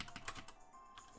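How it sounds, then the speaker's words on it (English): Quick, light keystrokes tapped on a computer keyboard, a brisk close burst of clicks with a short pause near the middle. "So I'm going to type it in again"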